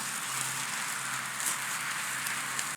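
A big one-bone prime rib steak sears on a barbecue grill, giving a dense, steady sizzle with fine crackles throughout, close and loud, with no voices.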